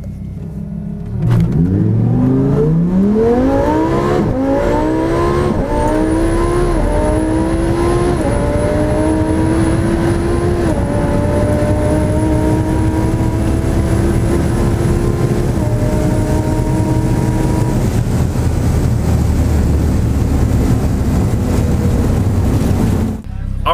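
A twin-turbo Lamborghini Huracan accelerates hard through a half-mile run: the engine climbs repeatedly through rising gear pulls with brief shift dips, then holds a loud, sustained high-speed roar with turbo whine, heard from inside the car.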